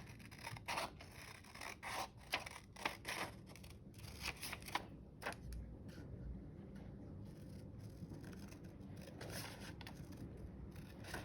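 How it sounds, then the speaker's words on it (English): Scissors snip through paper in a string of quick, close cuts, with short pauses and some soft rustling in between. "And I'm just gonna cut this out with scissors."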